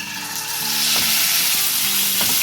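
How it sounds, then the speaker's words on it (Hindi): Small chicken pieces fry in hot oil with garlic-ginger paste, a loud, steady sizzle with stirring scrapes in the pan. "चिकन को इसमें भून लें।"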